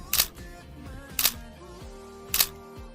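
Three crisp camera shutter clicks, evenly spaced about a second apart, as photos are taken in Seoraksan National Park, South Korea, each click loud and close against a quiet outdoor background.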